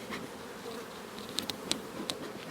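Honeybees buzz at an open hive during a colony split, a soft continuous drone of many insects with a few brief louder passes close by.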